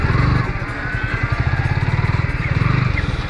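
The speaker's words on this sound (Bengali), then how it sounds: "দুপুর 2টা বাজতে আমাদের বাইক এসে থামল" A motorcycle engine runs close by with a steady, throbbing low rumble as the bike pulls up at a traditional eatery, Golam's food hotel in Enayetpur, Sirajganj, around midday.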